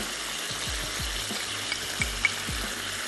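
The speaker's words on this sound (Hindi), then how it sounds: "लहसुन और अदरक का पेस्ट। थोड़ा सा इसको भूनते हैं" Garlic and ginger paste fries with pieces of meat in a pot, a steady close sizzle broken by several low scraping strokes of a spoon stirring.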